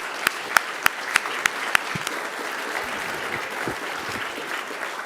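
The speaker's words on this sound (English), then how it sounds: "Let's round of applause." Audience applause at an industrial real estate market update breakfast, opening with several sharp distinct claps before settling into a steady, moderately loud wash of clapping from a crowd.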